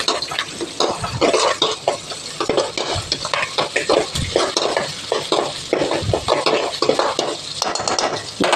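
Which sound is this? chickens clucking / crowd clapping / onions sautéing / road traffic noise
onions sautéing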